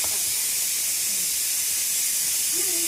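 A pressure cooker vents steam in a home kitchen after five whistles, giving a loud, continuous, close hiss that never lets up.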